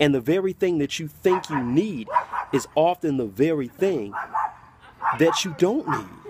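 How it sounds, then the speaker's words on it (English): A pet dog barks and yips repeatedly in the background of an indoor room, the sharp barks close-by and mixed under a man's continuous speech throughout. "That's my dog barking in the background"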